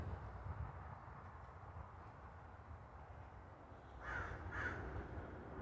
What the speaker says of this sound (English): And see, here's the birds now.